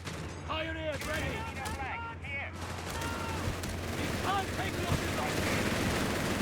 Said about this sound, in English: Machine gun opening up on the mortar pit as it's upgrading.